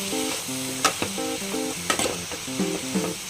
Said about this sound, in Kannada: ಆಯಿಲಲ್ಲಿ ಈ ಥರ ಚೆನ್ನಾಗಿ ಫ್ರೈ ಮಾಡ್ಕೋಬೇಕು.